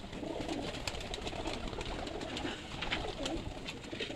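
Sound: Teddy pigeons cooing

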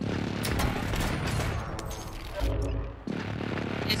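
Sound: precision airstrike in a Call of Duty video game

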